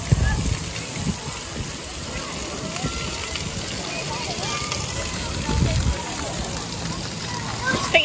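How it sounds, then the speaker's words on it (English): Water scooped up and poured back into a small pool at an amusement park splash area, giving steady sloshing and splashing under broad outdoor crowd noise, with a child's and adults' voices nearby. "Just picking up water and putting it back in the pool, in the bowl."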